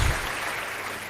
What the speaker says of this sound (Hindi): मैं उन लोक कलाकारों के लिए भी एक तालियां आमंत्रित कर रहा हूँ।